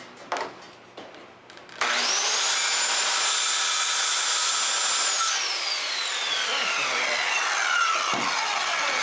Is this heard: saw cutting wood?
yes